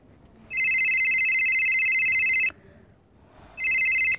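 A telephone rings twice in long electronic trills, the first lasting about two seconds, followed by a pause and a second ring that is cut short.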